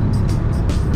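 A Peugeot 701 car drives along a road in Belgium, giving a steady, close engine and road rumble with faint rising whooshes of passing air.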